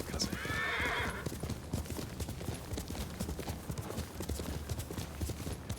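Steady clip-clop of horse hooves in Ghost of Tsushima, continuous rhythmic thuds over ambient noise, with a brief whinny-like squeal near the start.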